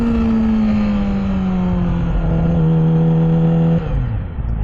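A Yamaha R6 motorcycle engine runs loud and close with a steady rumbling note, the revs easing slightly before dropping off near the end.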